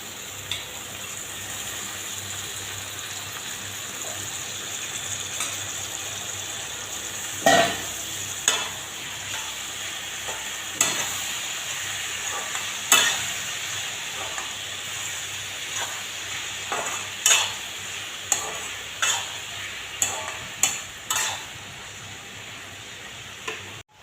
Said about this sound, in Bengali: এবার সেদ্ধ করা শিম দিয়ে দিচ্ছি।